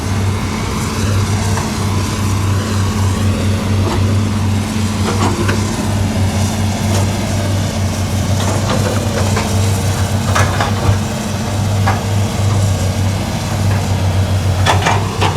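A Komatsu PC200-8 excavator working a slope sends out a loud, steady diesel drone with a strong low hum and occasional clanks and scrapes over it, close and continuous with no talk.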